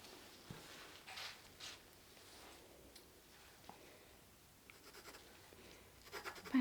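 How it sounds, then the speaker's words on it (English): A pen scratches quietly across a patient report during a calm medical exam, giving soft, intermittent strokes and small scribbles that rise slightly louder near the end, with no talking. "I just need to write in your report"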